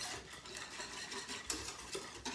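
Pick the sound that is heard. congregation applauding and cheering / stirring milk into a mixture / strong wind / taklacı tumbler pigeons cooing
stirring milk into a mixture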